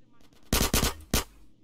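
A few loud, close AK rifle shots in GTA San Andreas crack in quick succession after quieter clicks.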